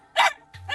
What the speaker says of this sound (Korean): 왜 저렇게 짖는 건지.